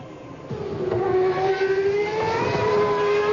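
Formula 1 cars from the 1998 Australian Grand Prix, McLaren Mercedes and Ferrari, racing with a high engine whine that rises and holds close by, then recedes, with some rumble underneath.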